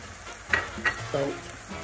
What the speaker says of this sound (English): Next, you want to add your onions.